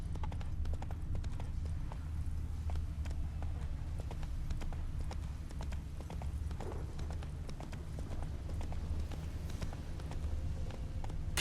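A horse gallops in The Witcher 3, a steady run of hoofbeats heard close and fairly loud throughout, with no talk over it.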